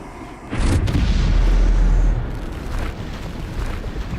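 Bombarda spell explosion in the video game Hogwarts Legacy, a single loud booming blast with a deep rumble that fades over a couple of seconds.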